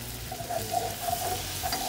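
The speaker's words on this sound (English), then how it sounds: "Now that the butter is almost melted, I am going to slowly add flour and whisk it." Flour being whisked into melted butter in a pan for a roux, with a soft steady sizzle and quick, light whisk strokes repeating close by.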